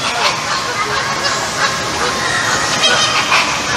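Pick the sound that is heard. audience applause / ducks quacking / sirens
ducks quacking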